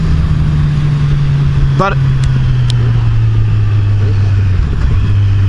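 A 2014 Kawasaki Z1000 Special Edition motorcycle hums steadily while riding, its engine note holding a constant drone and easing slightly lower partway through, under loud wind rush and a rider's talk.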